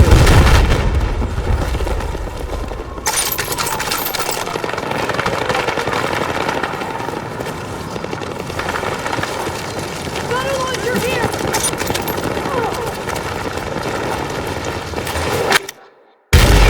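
Gunfire and explosions in Battlefield 6 combat, with dense, loud blasts and shots over an engine-like rumble, ending in a sudden brief silence.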